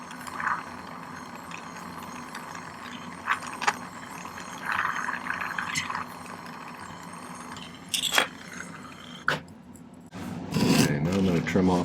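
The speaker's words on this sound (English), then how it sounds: "I'm just filing off the lip that's left over after I trim it as close as I can." Hand file rasping excess silver lip off a teardrop earring, intermittent scraping strokes over a low background hum, with a longer burst of filing near the end.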